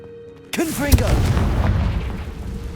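Confringo blasting spell in Hogwarts Legacy erupting in a sudden loud boom that rolls into a rumbling, crackling blast tail, with a brief voice over the impact.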